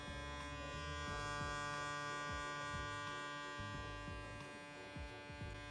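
Hair clippers with no guard and the lever fully open buzz steadily at close range while fading a taper, with faint rhythmic strokes against the hair and no talking.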